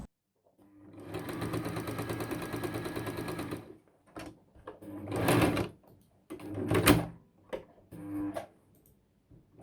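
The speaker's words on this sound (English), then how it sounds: "I do a zigzag stitch along the edge to make sure it's secure" A sewing machine runs a zigzag stitch along a fabric edge in a steady whirring burst lasting about three seconds, followed after a pause by two shorter bursts, close and clear.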